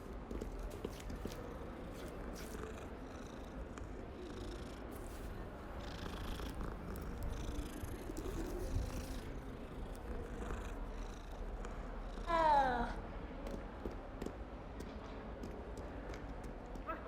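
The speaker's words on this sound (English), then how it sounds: "A kitty." A cat purrs in the Hogwarts Legacy video game as a soft, steady hum sits low under game ambience, with a brief brighter flourish near the end.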